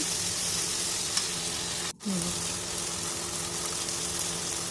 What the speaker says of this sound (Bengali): কাঁচা লঙ্কা রসুন বাটা ভালোভাবে মশলা কষিয়ে